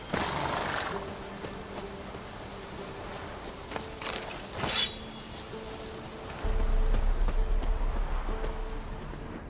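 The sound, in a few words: horse hooves clip-clopping while riding, from video game The Witcher 3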